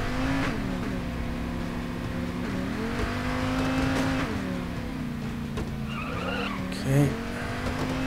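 A car in the PAYDAY 2 game drives toward the docks with a steady engine drone that rises and falls in pitch, plus a brief squeal near the end, while someone talks over it.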